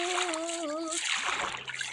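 Water splashing in the video game Minecraft, a steady noisy wash of in-game splashing that swells after a brief tonal sound at the start and keeps on loudly to the end.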